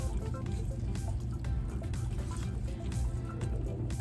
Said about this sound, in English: we're gonna add in the rest of this. And we're going to stir.